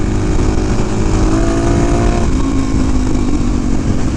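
A Suzuki DRZ motorcycle engine braking hard while riding, a loud steady engine drone with wind roar close to the rider, its pitch sliding downward as the bike slows.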